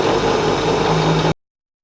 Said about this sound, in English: we're gonna put it in low gear and run our motor at a little bit higher speed